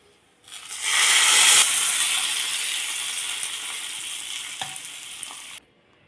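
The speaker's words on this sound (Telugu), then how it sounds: "ఆయిల్ వేడెక్కాక పోపు గింజలు వేగాక ఎండుమిర్చి, కరివేపాకు, పసుపు ఇప్పుడు ఇందులో కలుపుకోవాలండి." Mustard seeds, dried red chillies and curry leaves sizzle and spit in hot oil for a rice tempering, a loud steady frying hiss that starts abruptly and fades slightly over several seconds, with no talk.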